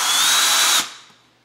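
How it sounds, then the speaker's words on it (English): A power drill whirs loudly and steadily as it twists heater filament wires gripped in needle-nose pliers, then cuts off abruptly and winds down into quiet. "turn on the drill"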